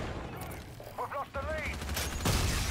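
X-EON assault rifle firing in a shooter video game, a rapid stream of shots with little recoil. The fire is loud and continuous and builds to a heavier burst near the end. Game tones and voices mix in beneath it.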